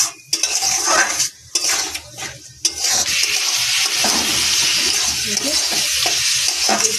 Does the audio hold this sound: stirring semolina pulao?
yes